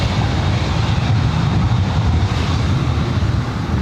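Heavy jet airliner, KLM 604, on its takeoff roll at LAX, a loud, steady, broadband roar heavy in the low end that holds at full strength throughout, with no voices over it.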